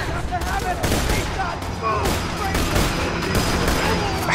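Dense, continuous gunfire from the Borderlands 2 shooter game as enemies like buzzards are engaged, loud rapid bursts layered with in-game effects and some voice activity throughout.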